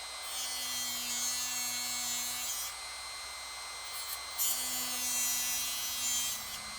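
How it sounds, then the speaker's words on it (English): A Dremel rotary tool cuts the plastic casing of a Milwaukee M18 battery pack, giving a steady high-pitched whine and grinding buzz that runs almost the whole time, briefly easing once midway, fairly quiet and without speech. "you have to be super careful on this not to let that Dremel tool go down and then cut into the battery pack"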